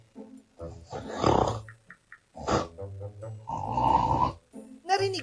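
A person snores in several irregular rasping, snorting bursts, some throaty and growling, separated by short quiet breaths, fairly close and without talk.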